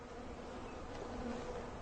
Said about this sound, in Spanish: Esta sí que es una hermosa colmena de abejas.